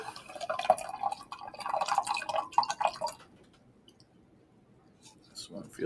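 Liquid poured from a container of 200 gram solution in an egg lab, a few seconds of trickling, clicking drips close up, then quiet before a voice speaks.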